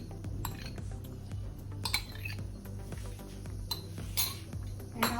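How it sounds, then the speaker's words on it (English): Cream is mixed into chicken korma in a metal pot, producing soft scrapes and irregular clinks of a utensil against the pot's sides, close and fairly quiet, with no talking. "And now we mix this."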